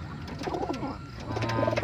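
A pigeon with an injured, lame foot coos close by in a few soft, throaty rolling phrases, with low background hum underneath.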